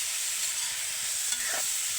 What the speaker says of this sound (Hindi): ये गेठी भुन रही है